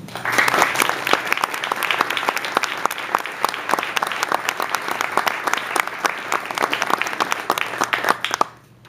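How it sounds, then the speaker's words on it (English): Sustained applause from a large crowd at a naval retirement ceremony, dense and steady clapping that carries on for several seconds before cutting off. "please join me in a round of applause for John and Heidi in their 21 years of service"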